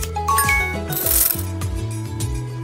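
Cartoon scissors snip hair in a kids' salon video game, with brief clicking and ratcheting cuts and a quick crisp burst over cheerful looping background music.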